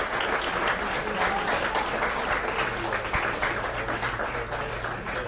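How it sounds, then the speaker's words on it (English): Crowd applause at a football cup final between Fraserburgh United and Hall Russell United, steady clapping spread across the stands and filling the air throughout. "Crowd's applause there."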